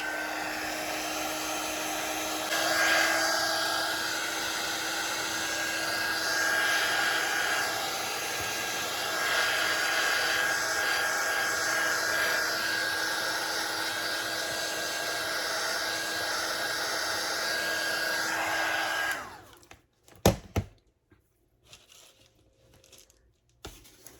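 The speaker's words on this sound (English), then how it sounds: "I'm going to dry these off again." A hair dryer blows steadily to dry wet paint on altered index cards, a loud continuous whoosh for about twenty seconds that cuts off abruptly, followed by a few clicks and handling noises.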